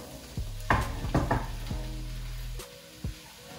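Onions and vegetables in a pan give a soft, steady sizzle, broken by a few clear knocks and scrapes from stirring. The sound is close and moderately quiet, with no talk.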